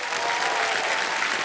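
Studio audience on the KBC quiz show claps for a contestant's mother, a brief, steady wash of applause at moderate volume.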